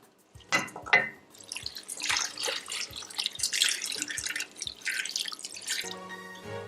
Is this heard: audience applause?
no